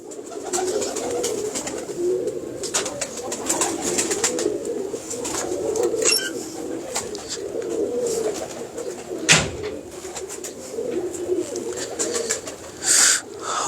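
Pigeons of a red-eyed fancy breed coo steadily and close by, a low continuous murmur of overlapping calls with a brief sharp knock midway.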